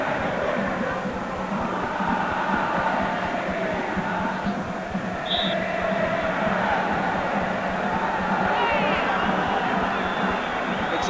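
A roaring crowd of about 70,000 fills a large stadium at the 1987 Copa América match between Argentina and Uruguay, a dense, continuous wash of cheering and noise that persists for the whole stretch.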